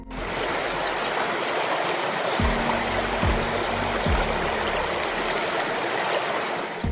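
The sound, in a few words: waterfall water hitting rocks in forest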